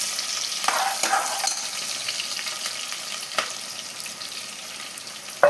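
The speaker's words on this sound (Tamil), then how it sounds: "ஆனியன் கூட கொஞ்சமாக உப்பு சேர்த்து நல்லா வதக்கிக்கலாம்." Chopped onions frying with salt and being stirred in a pan for chicken dum biryani, a steady close sizzle with intermittent scraping stir strokes and no talking.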